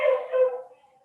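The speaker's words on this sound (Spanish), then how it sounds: "disculpen los perros de fondo" Dog howling and yipping in the background, a single drawn-out wavering cry that fades away over about a second, fairly distant and with no voice over it.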